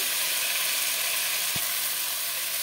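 Ginger paste going into a hot pan of vegetables for a Bengali vegetarian dish, with a loud, steady, broadband sizzle and hiss throughout and a single soft thud partway through.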